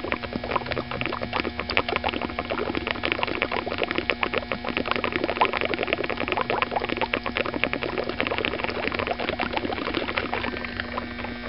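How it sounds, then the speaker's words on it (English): Hydrogen gas from an HHO electrolysis cell bubbles steadily through water, a dense continuous patter of bursting bubbles, close and alone with a faint hum beneath. "Huge bubbles."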